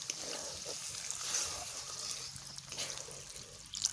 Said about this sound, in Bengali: দুই বাটি দুধ দিয়ে দিচ্ছি